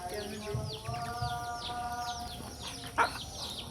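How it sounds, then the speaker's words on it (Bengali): A hen clucking on a rural farm beside a duck pond, with bird calls and chirps scattered through the short stretch and a sharper squawk near the end, against steady outdoor background noise. "আমার এই মুরগিটা খুবই ভালো, কাউকে মারে না"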